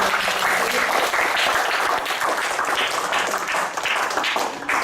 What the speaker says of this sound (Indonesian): saya mohon aplaus lagi untuk Bapak Ridin